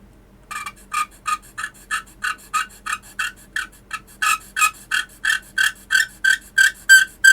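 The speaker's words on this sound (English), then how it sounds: "I'm going to sharpen my gravers really quickly" Watchmaker's carbide gravers being sharpened by hand, a close series of about twenty evenly spaced scraping strokes in a steady back-and-forth rhythm, growing slightly louder toward the end.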